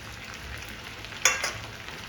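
Eggs are dropped into a thickened chilli sauce in a frying pan, giving a sudden burst of sizzle and crackle midway that fades back into a steady low bubbling fry.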